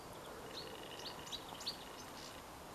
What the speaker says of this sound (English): So you can hear all the birds out here